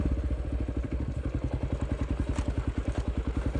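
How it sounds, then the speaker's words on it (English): A KLR motorcycle crawls slowly through a rocky off-road rock garden, its single-cylinder engine thumping in a steady low rhythm near the microphone, with occasional clatter from rocks and chassis. "I lean into the KLR's tractor factor and let it crawl its way through."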